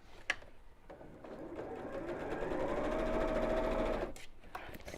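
A sewing machine stitches a bamboo-handled bag, starting after a few soft clicks, building to a steady close whir for a few seconds, then stopping with small handling taps.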